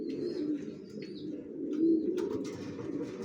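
Young racing pigeons offered for sale coo nearby in low, rolling, continuous murmurs, with a few faint chirps and light rustling mixed in.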